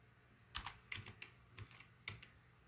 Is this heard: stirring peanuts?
no